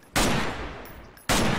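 Two loud unsuppressed gunshots at a shooting range in the Garry's Mod military roleplay, each a sharp blast with a lingering echoing tail, spaced about a second apart.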